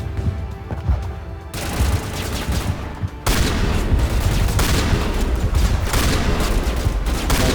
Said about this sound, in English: This shotgun's so good